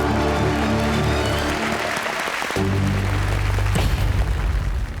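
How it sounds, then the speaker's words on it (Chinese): A television music show audience applauds performers coming onto the stage: dense, sustained clapping that stays loud throughout, mixed with stage music and deep booming accents. "热情的掌声欢迎我们的新朋友"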